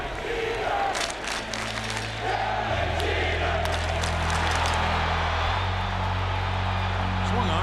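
Large sellout crowd at Yankee Stadium during a baseball game, cheering as a steady, dense roar of many voices with a low sustained rumble throughout.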